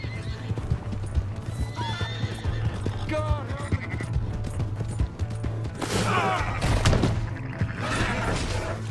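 A horse in the video game Red Dead Redemption 2 neighs and whinnies loudly over steady clip-clopping hooves, with a busy outdoor game soundscape behind it.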